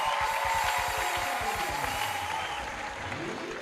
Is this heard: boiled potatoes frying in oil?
no